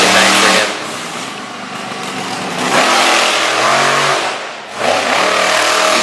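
The Stinger monster truck's big engine revs hard at an event in Harrington, Delaware, loud and close, with surging bursts that dip briefly and climb again across the whole stretch.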